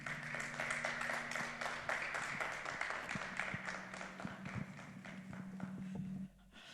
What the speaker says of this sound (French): Je vous demande d'applaudir très fort Pasteur Bertine.